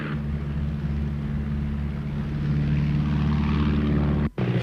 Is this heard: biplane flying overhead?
yes